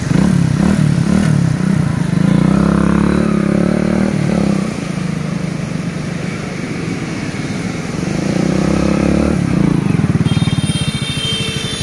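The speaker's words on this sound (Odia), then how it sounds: "ଭାଇ ଟିକେ ଷ୍ଟାର୍ଟ କର, ସାଉଣ୍ଡ ଟିକେ ଶୁଣନ୍ତୁ।" A modified Hero Honda Splendor motorcycle engine runs close by, revving up and down in loud uneven surges with a steady idling rumble between throttle blips, heard alone without talk.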